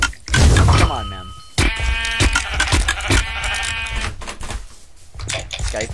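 Sheep bleat loudly in a video game, with a few wavering, nasal bleats interrupted by bursts of excited speech from players and clattering game sounds.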